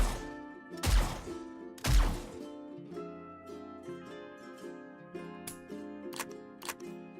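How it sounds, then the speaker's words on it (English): A gun reloading automatically in the video game 7 Days to Die: two heavy thuds in quick succession, then a few sparse, sharp mechanical clicks over a steady humming background. "So once I unzoom, it starts to reload automatically"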